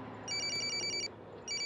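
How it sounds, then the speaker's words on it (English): A telephone rings with a bright electronic trill, sounding in two bursts separated by a short pause, loud and close over a steady background hum, with no one speaking. "Why is my phone ringing?"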